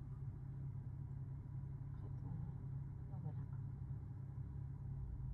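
A manual car engine idling low and steady while the clutch is held at the biting point, a faint continuous rumble from inside the car with people talking over it.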